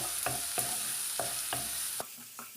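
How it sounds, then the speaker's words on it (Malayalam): Green chilli, ginger, garlic and onion sautéing in a pan for a semolina snack, with a steady close sizzle and several sharp spatula scrapes and stirs at an irregular rhythm; the frying hiss drops away near the end. "ചതച്ച് വെച്ചിരുന്ന പച്ചമുളക് ഇഞ്ചി വെളുത്തുള്ളി സവാള അതാടി കൊടുക്കുക നല്ലപോലെ വഴറ്റിയെടുക്കാവേ"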